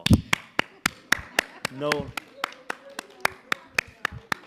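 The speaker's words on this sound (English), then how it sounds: "I'd like to raise a round of applause to you all" Slow, sparse hand claps from a small congregation at a Friday night family Shabbat service, sharp individual claps in an uneven rhythm with a brief spoken word in the middle.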